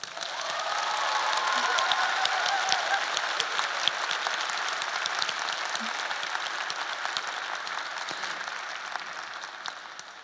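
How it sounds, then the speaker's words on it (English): Sustained applause from a commencement audience at a psychology graduation ceremony, steady dense clapping that fills the whole stretch, loud and even, slowly tapering toward the end. "Please join us in a round of applause."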